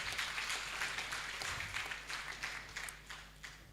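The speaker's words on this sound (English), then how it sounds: "Can we give her another big round of applause?" Audience at a malaria survey report dissemination giving a round of applause, a steady wash of many hands clapping at moderate distance that gradually thins out.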